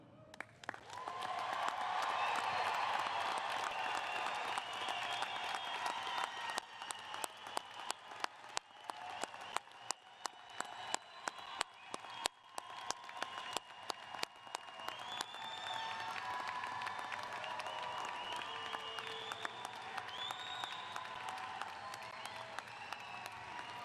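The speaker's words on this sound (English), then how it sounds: "please applaud, cheer, whistle, and share all your love with the class of 2021" At the 2021 Oak Hills High School graduation, a big crowd cheers and shouts. Sustained applause follows, with sharp individual claps and rising whistles, and it gradually thins into scattered clapping and calls from a distance.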